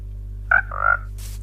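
Two short croaks from a frog in a video game, one after the other, over a steady low hum, followed by a brief soft hiss.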